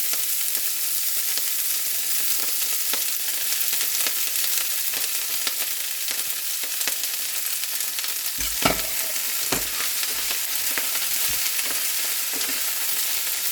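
Chillies, cabbage and capsicum sizzle steadily in a hot pan, with repeated scraping stirs and a few sharper clatters partway through, loud and close, with no talking.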